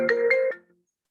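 A telephone ringtone sounds briefly, a short bright electronic melody of a few tones that cuts off and falls to silence, clear and close with no talk over it.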